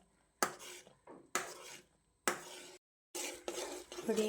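Milk powder peda mixture stirred in a pan with a utensil, giving several distinct scraping bursts with short pauses between, close and fairly quiet.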